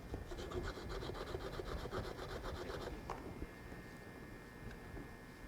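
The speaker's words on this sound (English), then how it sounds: "I've got a little piece of MDF with some 80 grit on it. I'm just going to sand that nice and flat." A small piece of MDF is sanded flat by hand with 80-grit sandpaper on a block, quick rhythmic rasping strokes close up that stop partway, leaving quiet room noise.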